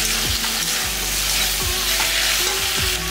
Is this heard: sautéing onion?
yes